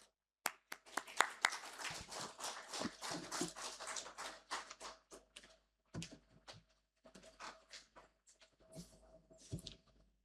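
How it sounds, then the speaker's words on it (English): Audience at a tech product launch event applauding, scattered claps building into a brief burst of applause, then thinning to sparse, faint claps that trail off at a distance. "A round of applause to him"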